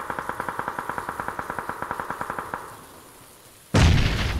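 A grenade explodes in PUBG: a rapid run of sharp, even pops gives way to a brief lull, then a loud, sudden blast with a long, rumbling tail.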